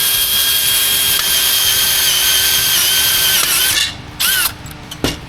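A THINKWORK mini step bit drills into metal with no pilot hole, only a small center punch. The drill gives a loud, steady whine for almost four seconds, then stops, followed by a few short clunks.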